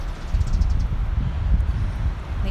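Outdoor wind gusting among cherry blossom trees in spring, a steady low rumble of moving air and buffeting with faint rustle, fairly loud and continuous with no talk.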